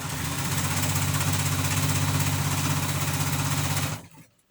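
A sewing machine runs steadily as it stitches denim jeans, a close, continuous whirring drone lasting about four seconds before it stops abruptly.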